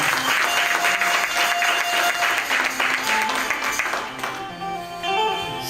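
A Swaminarayan religious assembly bursts into sustained, dense applause from many hands, loud and even for several seconds before tapering slightly near the end.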